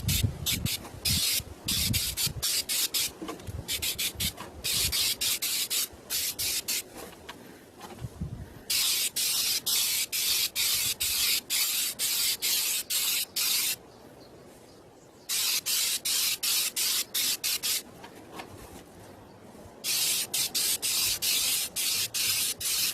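Duplicolor clear coat is sprayed from an aerosol can onto an acoustic guitar in several long hissing bursts, close and loud, separated by brief pauses of near silence.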